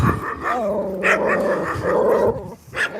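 A dog growls low and rumbling up close, then breaks into sharp, loud barks and yips in short bursts.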